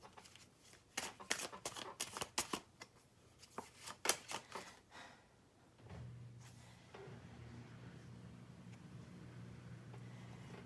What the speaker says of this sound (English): See what else comes out here. I'm just tossing cards.